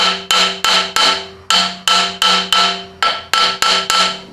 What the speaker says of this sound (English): I'm going to get it pushed back best I can with that brass hammer